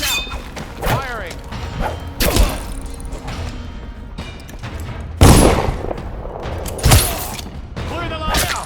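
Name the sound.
gunfire in video game Dishonored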